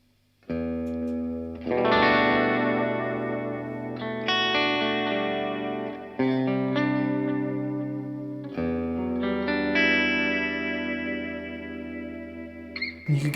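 Electric guitar through a tube boost, compression and heavy reverb, playing sustained chords and ringing notes with long washing tails across several strums, loud and alone.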